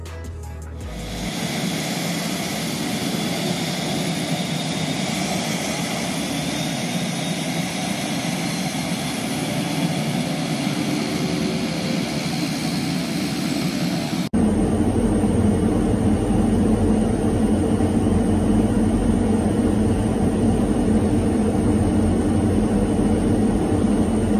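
A patrol aircraft flown by Australia over the West Philippine Sea, during a joint patrol where Chinese jets intercepted it, gives off a loud, steady engine drone. The drone runs throughout and shifts abruptly partway through.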